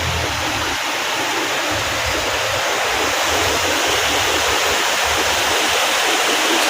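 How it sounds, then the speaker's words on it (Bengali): Heavy rain pours down in a dense, steady roar that stays loud and even from start to finish, with no voices. "ঝমঝম ঝমঝম বৃষ্টি"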